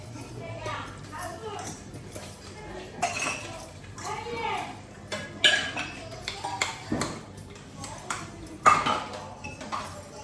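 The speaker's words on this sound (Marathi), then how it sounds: "मी आता थोडीशी भांडी पण घासून घेते." Dishes, pots and utensils are scrubbed and washed in a home kitchen, with repeated metallic clinks, clatters and pings over running background noise, close and irregular, while someone talks.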